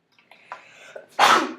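A single sharp sneeze in a quiet classroom, preceded by a soft intake of breath and then a loud, close, explosive burst.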